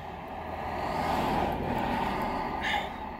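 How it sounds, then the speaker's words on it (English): Road noise reaches the inside of a parked car as a muffled, steady rumble that swells and fades as traffic passes outside. "Apologies for the road noise."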